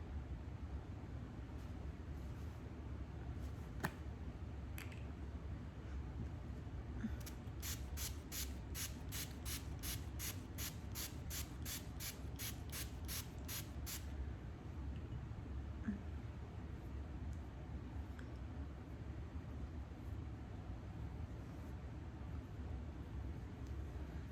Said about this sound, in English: I'm gonna spray with the toner.